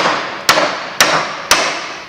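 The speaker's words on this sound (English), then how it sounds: "Let's use a heavier claw hammer." Three loud, evenly spaced strikes of a heavy claw hammer driving a nail into wood, each a sharp close impact about half a second apart with a short ringing decay.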